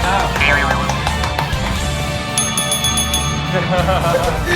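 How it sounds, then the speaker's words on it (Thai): A bell rung during a Good Battle card game at a cafe, heard as a short bright ringing burst partway through amid steady chatter and table noise, with people talking throughout. "มีกระดิ่งกัน"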